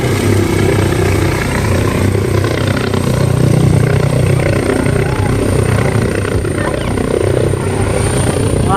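A helicopter starts up at a distance, a steady loud whine and rotor drone holding level throughout, with a high engine tone running above the low throbbing rumble.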